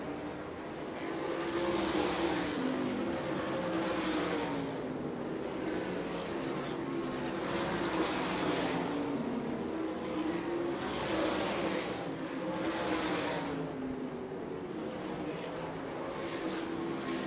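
Super sprint race cars circle a track in a CNS Super Sprints night race, engines swelling and fading in a regular rhythm as the pack passes again and again, a loud continuous high-pitched drone without voices.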